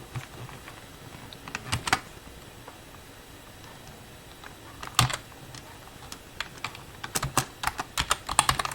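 Fingers typing a command on a computer keyboard, bursts of quick clicking keystrokes with pauses between, growing denser toward the end, close and alone.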